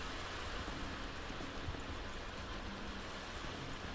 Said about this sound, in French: Et on entend bien la pluie dans le jeu, hein.